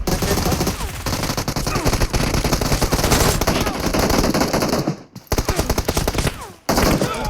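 Sustained automatic gunfire from the PUBG Mobile battle game, loud rapid bursts filling the clip with two brief pauses, no voices over it.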